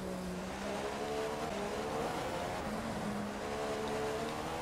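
Formula 1 race car in F1 2015 accelerating hard with the engine note climbing through gears, a loud, sustained whine with rising and falling pitch.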